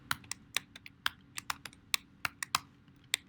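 Rapid, irregular clatter of keys as code is typed on a computer keyboard, close and crisp, with uneven bursts of keystrokes and no talking.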